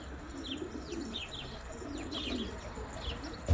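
A pigeon failing to land: soft, quiet coos and chirps with faint wing flutter, ending in a brief low thump.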